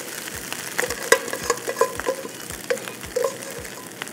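Cooked rice with turmeric is stirred and tossed in a hot pan on a switched-off stove, giving a soft sizzle with a steady series of spoon scrapes and light metallic clinks.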